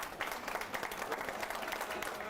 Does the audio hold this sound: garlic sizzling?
no